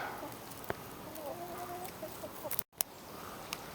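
Chickens clucking in a backyard flock, a few short broken clucks at moderate distance over steady outdoor background noise, with one sharp knock near the end.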